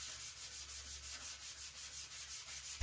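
Wood filler on a bathroom renovation being sanded with quick, even back-and-forth strokes, a faint, close rhythmic scratching repeated about a dozen times, with no speech.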